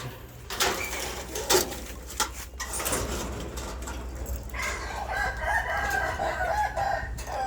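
A Burmese rooster crows, its drawn-out call rising over a busy farmyard background, with scattered clucks and knocks around it, in a pen holding five roosters.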